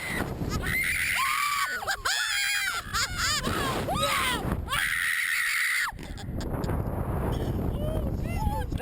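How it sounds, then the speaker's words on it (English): A woman screams repeatedly on a scary tourist attraction ride, shrill wavering cries rising and falling over loud rushing wind noise, close to the microphone. "Going up, she was screaming like it was the end of the world"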